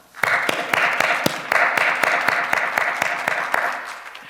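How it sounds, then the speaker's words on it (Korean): A church congregation at a New Year joint early-morning prayer service claps in unison, sharp regular beats roughly every quarter second over a bed of scattered clapping, loud and sustained with no voices. "다시 한번 하나님께 영광의 박수 올려드리겠습니다"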